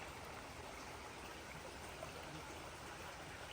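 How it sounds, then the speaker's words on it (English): Water flowing steadily in Wolf Creek, a mountain stream in Vogel State Park in the North Georgia mountains, a constant broadband rush with no breaks, fairly soft and heard alone without talk. "A little bit more water flow in here."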